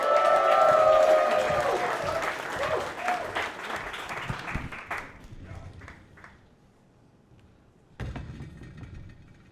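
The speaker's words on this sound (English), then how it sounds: "that round of applause going for your next comic." Comedy club audience at Broadway Comedy Club applauding a comic, a loud sustained wash of clapping and crowd noise that gradually thins and fades, followed by a short burst of low rumbling noise near the end.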